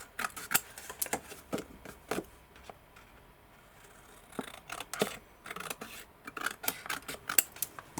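Scissors snip plastic tabs off a grandfather clock assembly piece in a quiet room, giving a series of sharp, close clicks in two bursts with a brief pause between.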